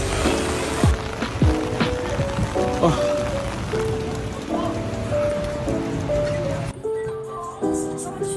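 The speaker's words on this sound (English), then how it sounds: "Wow, it's raining so hard." Heavy rain pours down hard and steadily in Vietnam or Korea, drumming on a surface close by, with a musical tone sounding through the downpour.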